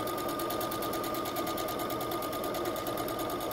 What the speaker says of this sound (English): Quick little back stitch,